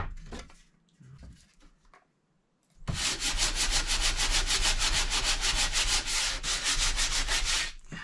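Wood knots and rough, torn-out grain on a crib with a sliding changing table are sanded out, making a loud, steady scratchy rasp that runs nonstop for about five seconds after a few quieter scuffs.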